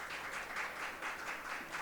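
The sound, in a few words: applause for Elaine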